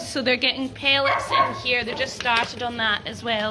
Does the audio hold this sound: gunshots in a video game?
no